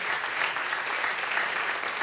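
A church congregation applauds during a worship service, steady, even clapping from a crowd, fairly quiet and heard alone for a couple of seconds.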